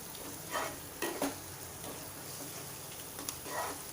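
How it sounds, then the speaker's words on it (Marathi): Crushed green chili and garlic paste frying in a pan makes a low, constant sizzle, broken by a few soft stirring scrapes and light spatula taps. "हे अर्धा मिनिट छान परतून घ्या ठेचा."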